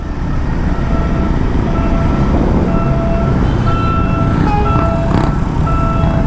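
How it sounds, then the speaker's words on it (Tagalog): A train rumbles by at Bicutan in the Philippines with a steady, loud roar, while high tonal beeps or bell-like tones sound repeatedly over the noise. "naabutan pa tayo ng tren"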